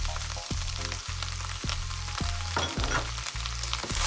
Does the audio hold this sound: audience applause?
no